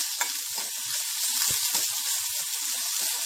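Curry leaves and two green chilies crackling and sizzling in hot oil as a tempering for raw mango rasam, a steady close hiss with small pops and spatters.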